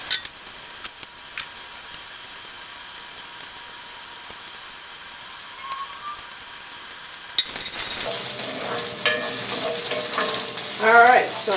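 Bacon substitute pieces frying in a pan: a faint low background for several seconds, then a louder, steady close sizzle with crackling and a few sharp pops toward the end.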